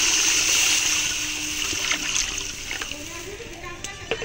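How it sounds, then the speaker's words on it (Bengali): Water is poured into a pan of fried spices while cooking a Bengali fish curry with taro and brigade fish, giving a steady close splashing, trickling pour that fades into sizzling and bubbling. "মশলা কষানো হয়ে গেছে, এখন দিয়ে দিব পরিমাণ মতো জল।"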